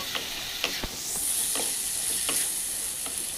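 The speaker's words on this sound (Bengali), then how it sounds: "দিয়ে দিচ্ছি টমেটো দিয়ে আমি নাড়াচাড়া করে নেব" Tomatoes stirred into spiced oil in a pan, with a steady sizzle and a few sharp spoon scrapes and clicks against the pan surface, close up and without talk.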